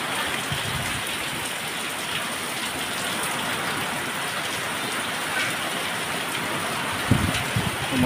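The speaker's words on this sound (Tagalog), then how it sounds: "Manood muna kayo ng patak ng hagupit ni Christine." Rain from Typhoon Kristine pouring steadily, a dense even hiss of falling water that stays constant throughout, with a few brief knocks near the end and no voices.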